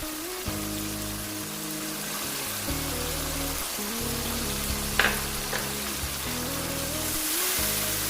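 Peas with ginger-garlic paste fry in a pot, a steady close crackling sizzle with a brief stirring knock, over a low background drone and no talking.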